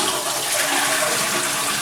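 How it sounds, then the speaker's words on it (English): A toilet in a Japanese apartment flushes, a loud close rushing of water pouring steadily for the whole moment with no voices. "There's a sink right here that when you flush,"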